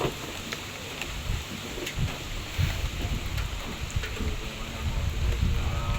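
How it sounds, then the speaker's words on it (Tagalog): Steady rain hisses and patters on a kitchen under construction, with scattered louder drips and low rumbles underneath. "Puro ulan na laang po."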